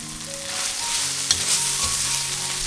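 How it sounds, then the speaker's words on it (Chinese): Vegetarian kimchi fried rice is stir-fried with Korean chili paste in a hot pan. It gives a continuous close sizzle and crackle, with soft scraping as it is stirred, and no voices. "加入韩式辣酱，炒均匀。"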